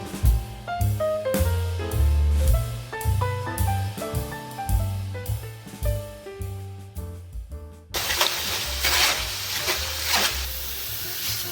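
Moong dal frying in hot oil in a sieve; after a stretch of background music, a dense, bright sizzle rises and continues steadily.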